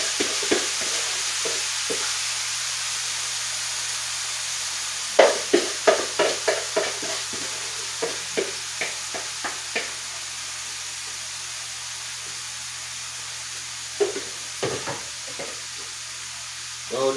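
Shrimp and vegetables stirred in a pot for curry shrimp, Jamaican style: a steady low sizzle runs throughout, with a series of soft clinks and scrapes from stirring, clustered in bursts partway through and again near the end, close and moderately quiet.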